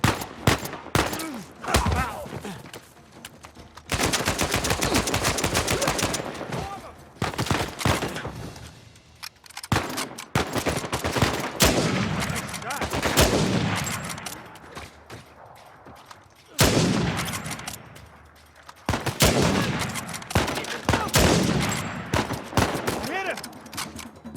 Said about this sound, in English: Sam, sniper! Fight cover